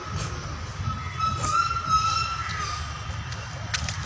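A tram rolls at a tram station in Kolkata with a low rumbling drone of wheels on rails and a thin metallic squeal, steady and fairly close with occasional clanks.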